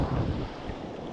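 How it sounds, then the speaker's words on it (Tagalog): Strong sea wind buffets the microphone with a low roar while big waves wash and churn nearby during shore fishing, loud and continuous. "Grabe yung lakas ng alon. Ang hangin."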